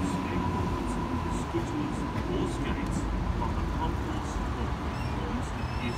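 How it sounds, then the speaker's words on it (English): An electric Tangara passenger train rumbles steadily on its approach to a platform at Milsons Point, with a constant low roar and faint higher tones from the rails, and no pause in the noise. "we've got a Tangara approaching platform number 2"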